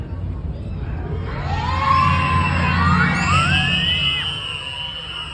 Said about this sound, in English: first I need you all to yell for me really loud